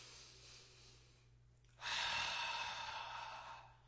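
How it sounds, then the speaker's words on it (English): Breathing sounds from a person doing a tai chi shaking exercise: a soft exhale, then a louder, breathy push of air that holds for about two seconds, close to the microphone, with no talk. "I'm breathing."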